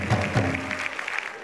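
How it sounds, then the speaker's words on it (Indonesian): Studio audience at a televised Indonesian stand-up comedy show breaks into applause, a steady wash of clapping at moderate level with a few voices mixed in. "Beri tepuk tangan untuk Kampung Kocak."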